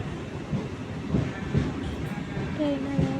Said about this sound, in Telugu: ట్రైన్ అలా వెళ్తూ ఉంది.